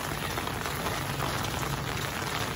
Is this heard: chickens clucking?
no